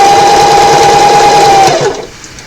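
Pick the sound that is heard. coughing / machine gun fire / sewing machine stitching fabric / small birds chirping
sewing machine stitching fabric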